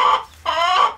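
Two loud, harsh nasal calls from a nearby fowl, one short and one longer, with a brief pause between them.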